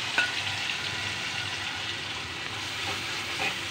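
Onion masala paste sizzling and frying in hot oil in a pan, a steady crackling hiss with small stirring scrapes, fairly loud and close, no voices.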